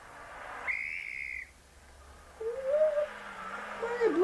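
Rally spectators blowing whistles beside a stage: one shrill high whistle blast, a pause, then a second lower, wavering whistle trailing off under light background noise.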